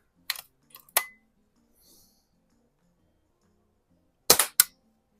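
Sharp, close snaps and clicks from a CO2 air gun being fired and handled come in two clusters separated by a few seconds of near silence, with faint mechanical rattles between.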